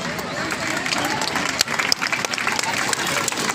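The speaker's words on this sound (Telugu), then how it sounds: "క్లాప్స్, దీన్ని మీరు క్లాప్స్ ద్వారా ఎంకరేజ్మెంట్ చేయొచ్చు." Audience applause at a stage programme as a performer is called up, a dense, steady wash of many hands clapping through the whole stretch, with crowd noise and voices blended in.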